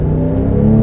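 A 2010 Porsche 997 GT3 RS 3.8 with a manual gearbox drives along, its engine giving a loud, steady, close-up rumbling drone with a held tone for under a second.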